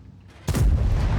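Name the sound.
tank gun firing a shot in the video game World of Tanks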